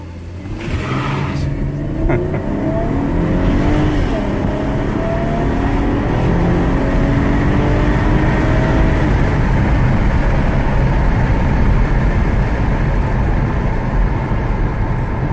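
A 2013 Camaro RS fifth-gen with an eBay intake accelerates from 0 to 60, heard from inside as a loud engine rumble with rising revs through gear changes, under road noise.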